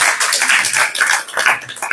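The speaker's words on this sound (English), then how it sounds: "I can make claps" Rapid hand claps from an audience at an evening spiritual talk in London, a dense sustained patter of many palms with no voices over it.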